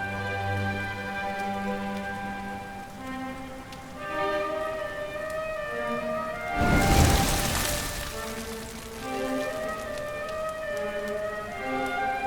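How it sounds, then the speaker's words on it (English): Steady rainfall in the video game Dragon Quest XI S: Echoes of an Elusive Age, hissing beneath sustained background music, with a louder burst of rain noise about midway through. "Looks like the rain's dying down."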